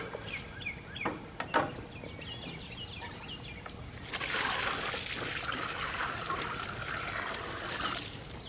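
Water poured out for a flock of farm birds: a few light chirps and small splashes at first, then a steady, close trickling wash that runs on to the end.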